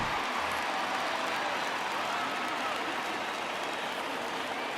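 Home crowd roaring and applauding at a 1999 Arizona Diamondbacks vs New York Yankees baseball game after a home run, a dense, sustained wash of cheering throughout.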